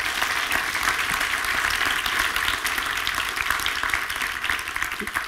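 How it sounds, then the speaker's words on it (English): A forum audience at a conference stage in Bratislava applauds a departing speaker, a loud, dense and continuous wash of many hands clapping that stays steady from start to finish. "And big applause for him."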